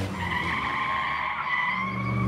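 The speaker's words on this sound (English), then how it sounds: "I was interrupted by the sound of tires squealing behind me." Car tires squeal in a sustained, steady screech for a couple of seconds, loud and continuous as a sound effect in an audio drama.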